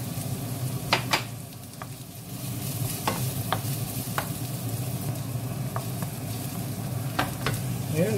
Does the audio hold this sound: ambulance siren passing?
no